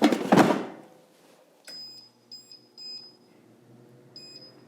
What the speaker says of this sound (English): my air fryer just beeped